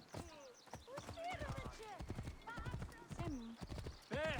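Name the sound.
horse galloping in Assassin's Creed Origins video game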